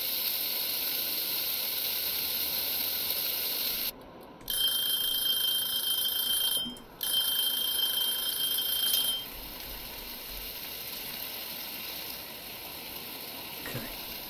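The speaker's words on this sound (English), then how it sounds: "Probably best if I start the timer and then put it in" A kitchen timer in the cooking video game Cooking Simulator gives a steady, bright electronic ringing over hiss, cut by two brief breaks, then drops away after about nine seconds, leaving a quieter background.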